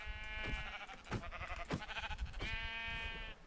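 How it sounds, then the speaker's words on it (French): Repeated bleats from a sheep being struck in the video game Minecraft, strong and harmonic, several calls in quick succession with short gaps over a steady game background. "Je l'ai matraqué, le pauvre mouton."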